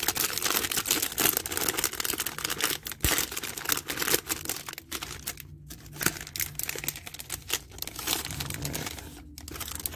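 Pokémon card pack wrapper being torn open: close, busy crinkling and ripping of foil plastic across the whole stretch, with brief pauses and one short spoken word.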